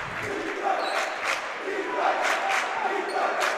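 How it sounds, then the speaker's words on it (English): A large indoor crowd at a varsity basketball game roars and cheers continuously, with a few sharp whistles and shouts rising above the din. "this crowd is amazing. Absolutely, very loud."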